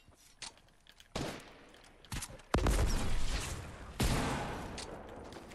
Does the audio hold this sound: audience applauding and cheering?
no